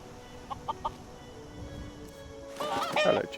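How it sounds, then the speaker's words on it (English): A chicken clucking in the video game Skyrim, with three short, soft clucks near the start, then louder squawking cackles toward the end over a low background hum. "Hello, chicken. Give me them feathers."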